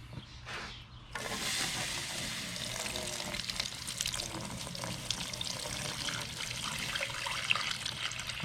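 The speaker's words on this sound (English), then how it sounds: "Drip pan, we're going to add water." Water pours steadily into the drip pan of a charcoal smoker set up for smoking pork, a continuous close hissing splash after a brief quieter start.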